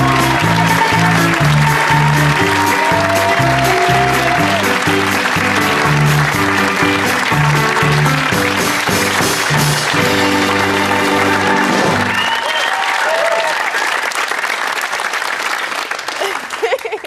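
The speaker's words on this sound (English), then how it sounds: "I didn't get a cheer like that." A television studio audience at a 2002 talk show applauds and cheers loudly for a guest, a dense, sustained roar with music playing underneath, the clapping continuing alone after the music stops near the end.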